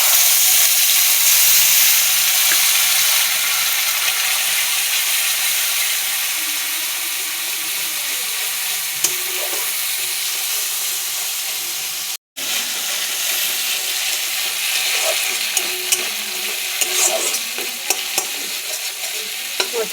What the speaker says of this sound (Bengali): মশলা ভাজা হয়ে গেছে, তেল ছেড়ে দিয়েছে।